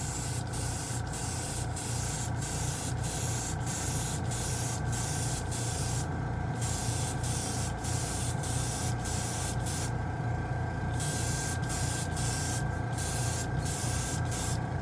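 Titan hobby primer sprayed from an aerosol can in a heavy coat, a steady close hiss running continuously with brief pauses and pulsing texture, no talk.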